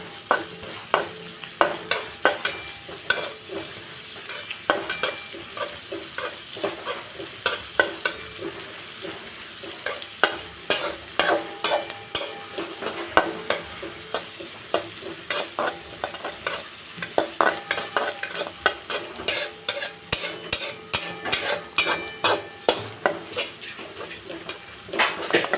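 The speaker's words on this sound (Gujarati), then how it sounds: "હવે ડુંગળીને આપણે ગોલ્ડન બ્રાઉન સુધી કૂક કરી લઈશું" Finely chopped onions frying in a pan until golden brown for Anand-style mung bean pulao, a steady close sizzle broken by frequent sharp scrapes and clinks of a stirring spoon against the pan, with no talking.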